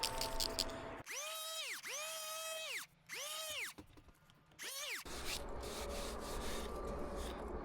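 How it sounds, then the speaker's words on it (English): An electric hand planer shaves the top of a wooden hog-fence railing: a rough scraping cut, then several rising-and-falling whining passes, then another long, steady rasping stretch close by. "If I go really light on the planer"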